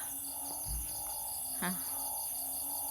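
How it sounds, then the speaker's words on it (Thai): Banded bullfrogs call at night from under a house, a steady shrill chorus of repeated calls with one brief, louder croak near the middle, heard alone at moderate distance. "เสียงร้องนะครับผมเสียงอึ่งอ่างร้องนะคะ"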